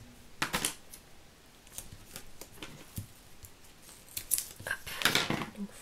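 Scissors snip through paper while a vintage card is crafted, a run of crisp, close cutting clicks in irregular bursts with no talk.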